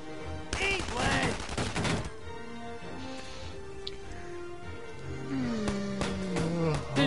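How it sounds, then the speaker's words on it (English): Enemy gunfire crackles in Valkyria Chronicles 4, rapid bursts of shots under loud in-game voices and game music, with sporadic reports continuing through the battle. "Yeah, they're firing at me!"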